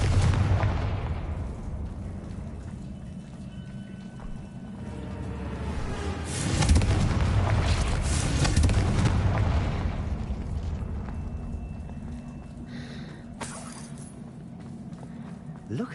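Confringo fire spells blasting in Hogwarts Legacy, with booming explosions and rumbling debris that swell and fade over several seconds, under game voices and background music.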